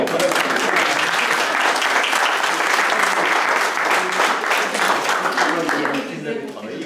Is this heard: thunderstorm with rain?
no